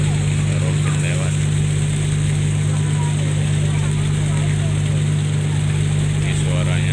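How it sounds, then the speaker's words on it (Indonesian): A loud, steady ferry engine drone rumbles continuously at close range, a deep unbroken hum with a faint voice beneath it, heard on a night crossing. "Ini suaranya gemuruh ya, besar suaranya. Ini karena dekat mesin kapal ferinya."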